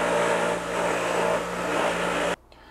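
Buffing wheel polishing stainless steel trim from a 1968 Ford Mustang California Special, a loud continuous motor whine and abrasive hiss that cuts off abruptly near the end, leaving quiet room tone.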